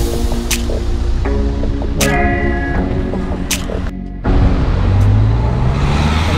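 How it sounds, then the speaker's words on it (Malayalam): Cars passing on a road near Glendalough, heard from inside a moving vehicle: a steady engine and road rumble with a few brief swells as other vehicles go by, no talk. "കുറെ അധികം വണ്ടികളുണ്ട് ഇപ്പോൾ ഇവിടെ."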